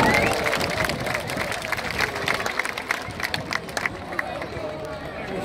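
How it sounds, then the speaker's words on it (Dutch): A large crowd applauds and cheers for Ajax footballer Lasse Schöne at the club's open day, a dense, continuous wash of clapping and shouting that holds steady throughout. "Mag ik een heel groot applaus voor niemand minder dan Lasse Schöne!"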